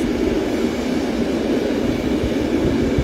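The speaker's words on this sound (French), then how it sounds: "il y a encore un train qui passe" A train passes close by, a steady loud rumbling roar with broadband rushing noise that holds level for the whole stretch, with no voices over it.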